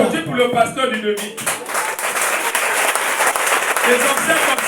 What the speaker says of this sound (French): On applaudit pour le pasteur du demi